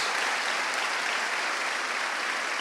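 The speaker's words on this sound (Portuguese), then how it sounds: "Vamos aplaudir os nossos irmãos aí do catolicismo." A church congregation applauds during a pastor's sermon, a brief, steady wash of many hands clapping at moderate volume with no break.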